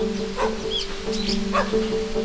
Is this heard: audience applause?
no